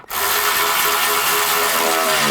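Power tool tightening bolts on the radiator cooling fan shield of a 2011–2014 Chrysler 200, a loud, close, continuous whirring buzz that starts abruptly and holds steady with no talk.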